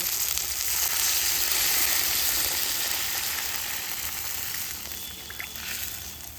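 Water poured into a pan of fried spices for a Kuche fish curry, giving a loud, steady sizzling hiss that slowly eases off as the water settles, with no talking.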